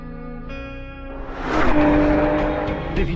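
An Aston Martin Vantage sports car builds from a steady tone into a loud, rising engine roar with brief tire squeal, close and sustained for about three seconds with no talking.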